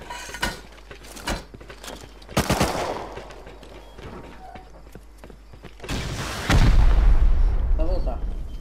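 In the survival game Rust, a loud rocket launch and explosion come amid scattered gunshots, ending in a sustained roaring blast with deep rumble, while players talk.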